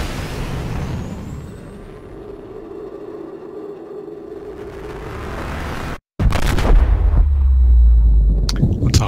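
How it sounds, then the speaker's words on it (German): A spaceship explosion in the game Subnautica booms in, loud and rumbling, after a stretch of steady electronic hum, then a brief cut to silence and a heavy blast. "Raumschiff ist explodiert."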